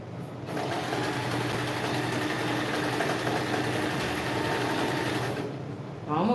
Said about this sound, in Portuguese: costurando direitinho